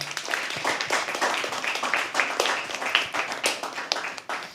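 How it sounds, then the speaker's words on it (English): Audience at a live poetry open mic at The Habitat claps steadily, a dense patter of many hands, moderately loud and continuous, with a few voices faintly mixed in. "Another round of applause"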